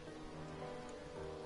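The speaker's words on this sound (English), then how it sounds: "It's raining." Faint, even rain hisses steadily in a Sword Art Online game, a soft continuous wash with no other sounds standing out.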